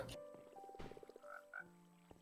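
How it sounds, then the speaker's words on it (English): Frogs in the Minecraft video game croak in a string of short, tonal, faint calls. Several croaks overlap one another with no talking. "Those are some happy frogs."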